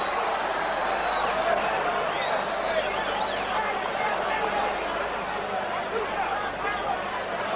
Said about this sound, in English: the crowd signalling that they're enjoying every punch coming in from Tyson